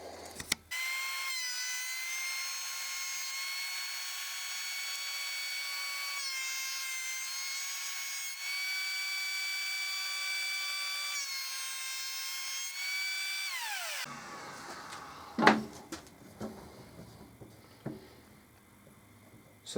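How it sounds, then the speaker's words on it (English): A workshop planer flattening walnut boards runs as a loud, steady high whine with a bright harmonic drone for about thirteen seconds, then spins down into scattered knocks and clatter as the boards are handled. "I'm going to put them over the planer just to flatten them out"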